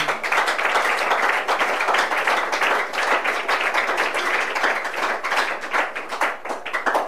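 A church congregation claps loudly and steadily in praise, a dense, continuous burst of many hands with rapid, slightly uneven rhythm, close and full throughout.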